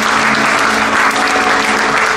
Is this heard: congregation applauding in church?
yes